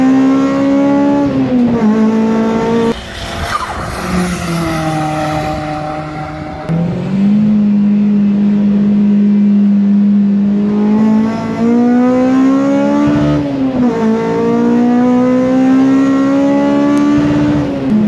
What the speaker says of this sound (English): as you can hear, I do hit the limiter quite a bit in this car